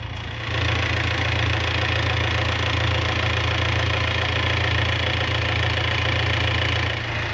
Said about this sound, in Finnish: nyt mä sammutan nyt moottorin, koska se pitää aikamoista meteliä